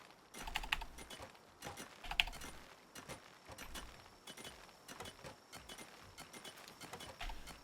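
Fingers tap away on a computer keyboard in an irregular stream of soft, close clicks and keystrokes, quiet throughout with no voices.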